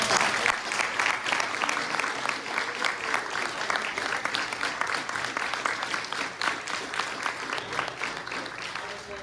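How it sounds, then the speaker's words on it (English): Applause from attendees at a realtor panel event, close and fairly loud, with distinct individual claps that gradually thin out and fade toward the end. "Give a huge round of applause."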